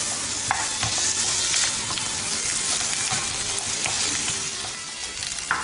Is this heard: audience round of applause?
no